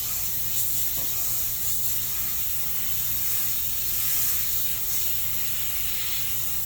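A steady, hissing spray gun paints a car pillar over a template, running continuously at an even level, held close, with no voices.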